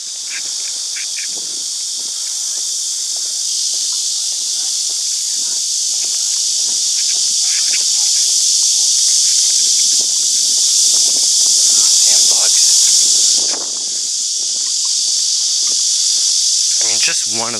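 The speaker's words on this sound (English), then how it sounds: "Just one of those bugs is unbelievably loud." Dense, loud insect buzzing from a park in Seosan, Korea, a continuous high droning chorus that swells and holds steady throughout, with faint footsteps and rustling beneath.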